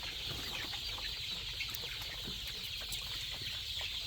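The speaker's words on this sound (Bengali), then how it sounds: "এই যে মুরগি একটা থেকে আরেকটাতে লাফিয়ে লাফিয়ে যাচ্ছে" Chickens clucking softly on perches in a coop, with faint scattered wingbeats from birds hopping between roosts, all under a steady hiss of background noise.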